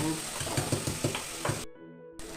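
Onions sizzle and crackle in a hot pan while being sautéed for egg curry, a steady fry with periodic stirring knocks, the sizzle cutting out briefly near the end.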